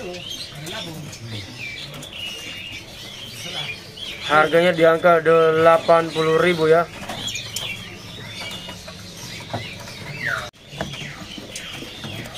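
At a bird shop kiosk, caged birds chirp and call in a busy mix, with a loud rapid warbling burst in the middle, while someone talks over the sounds.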